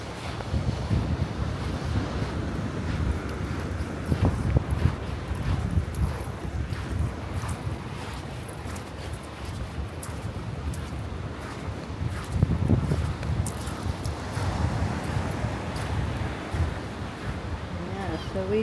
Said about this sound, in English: it's a wee bit windy this morning